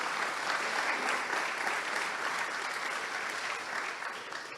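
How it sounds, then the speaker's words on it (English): Dense, steady applause from an audience at a ZK Hack event in Montréal, many hands clapping together at an even level before easing off slightly at the end. "a round of applause"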